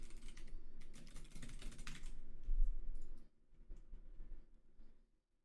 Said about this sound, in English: Typing this a lot.